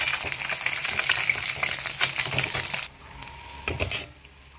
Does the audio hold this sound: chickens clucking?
no